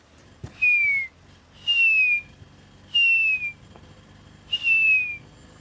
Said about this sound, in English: in the background you can hear the whistling call, perhaps, of the grey hornbill